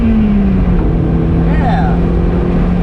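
Toyota MR2 SW30 with a six-speed manual pulling hard in second gear, its engine note rising then settling into a steady loud drone under constant road and wind noise.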